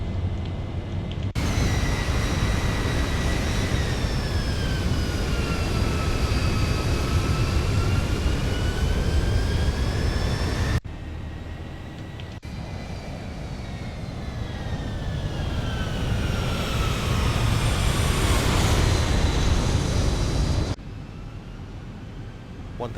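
Boeing 737 MAX 8 jet engines in a flight simulator roar steadily through the climb after takeoff, with rising whining tones over a broad rumble and two brief cuts in the sound.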